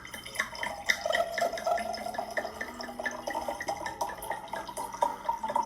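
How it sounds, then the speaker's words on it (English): Wine pouring from a Kirkland bottle into a large glass, a steady liquid trickle and glugging that fills the glass over several seconds, close and fairly quiet with no talk. "He's pouring wine from a Kirkland bottle, and it's now going to be called the Marriott Westbury pour."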